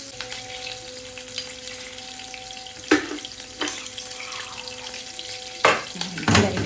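A spoonful of butter sizzling in hot oil in a pan, a steady close frying hiss with a few sharp spattering bursts and clatters, no voices.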